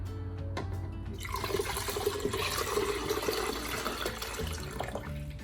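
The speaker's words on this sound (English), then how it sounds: "we are going to pour in our 500 milliliters of water" Water pours steadily into a container for lemonade for several seconds, a continuous splashing gush that starts abruptly and fades near the end.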